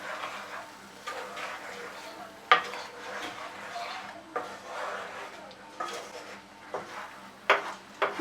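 Spinach and paneer being stirred in a pan with salt and cumin powder, a spoon scraping and clinking against the metal in repeated strokes over a faint sizzle.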